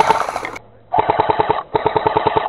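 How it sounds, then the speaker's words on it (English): An airsoft heavy machine gun rattles off two rapid bursts at an outdoor village skirmish, each a loud, close string of sharp even shots, with a brief gap between them and another short burst just before. "Heavy and light machine guns have a burst fire rule."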